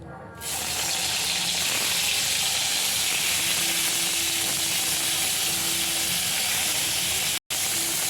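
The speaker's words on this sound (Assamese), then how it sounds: "বাকি থকা বেঙেনাখিনিও এতিয়া ফ্ৰাই কৰি লৈছোঁ।" Eggplant slices frying in hot oil give a loud, steady sizzle that starts almost at once and runs continuously, breaking off only briefly near the end.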